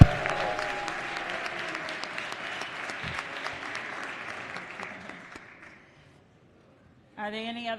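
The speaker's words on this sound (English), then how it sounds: "Give him a big round of applause" Applause from the floor of a state House session, a dense steady clapping that fades out after about five seconds, followed by a short silence and then a speaking voice at the end.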